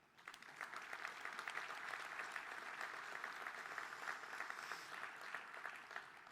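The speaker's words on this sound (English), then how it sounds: "Let's give all of our co-hosts and sponsors a round of applause." An audience at a Midwest economic outlook summit applauds its co-hosts and sponsors, a steady, dense wash of clapping from many hands that holds at an even level throughout.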